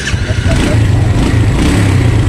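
Yamaha Jupiter Z motorcycle engine, weak and lacking power, running at a steady loud idle with a continuous low rumble and no pauses.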